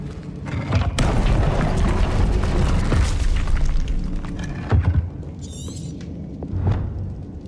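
An Incendio fire spell from Hogwarts Legacy erupts in a loud, sustained fiery whoosh and roar that fades into softer crackles and bursts, with no speech.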